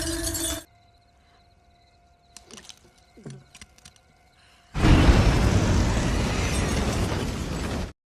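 Car hurled into a gas station in the 2013 film Carrie: a short burst of noise, then near silence broken by metallic clatter, creaks and pops, then a loud, roaring explosion that runs on for about three seconds.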